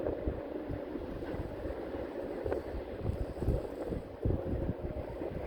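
Wind gusts buffet an outdoor microphone on a shooting range, a rough, rumbling low roar that swells and fades in uneven puffs, loud and close.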